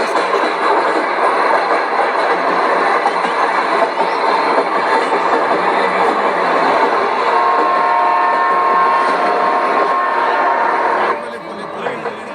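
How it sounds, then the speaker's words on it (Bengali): A steady, loud rumble of a train fills the whole stretch, with a faint tonal whine midway before the noise drops slightly near the end. "দাঁড়া অনেক দূর থেকে ট্রেনটা আসছে"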